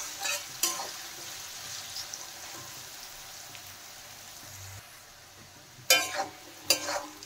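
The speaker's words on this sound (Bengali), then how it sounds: "এখন ভালো করে নেড়ে চেড়ে ভেজে নেব আমি।" Cubed potatoes and carrots fry in hot oil with salt and turmeric, a steady soft sizzle with a few clattering stirs of the spatula against the pan near the end.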